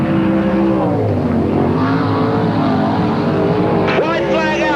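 Sprint cars race at Parramatta City Raceway in 1985 with a loud, continuous engine roar, and one car screams past near the end with a rising and falling whine while a commentator talks over the noise.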